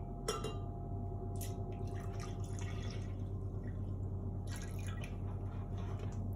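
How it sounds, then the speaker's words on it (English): Milk pours steadily into a blender, a continuous splashing fill with a few brighter sputters along the way. "Now I'm going to pour the milk into the blender."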